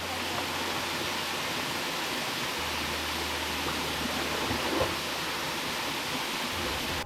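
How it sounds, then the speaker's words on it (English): A stream and waterfall on the Brokopondo Trail in Suriname, a constant soft rushing wash of water holding evenly throughout with a low undertone and no voices. "the gentle sound of the stream added a relaxing touch to the atmosphere"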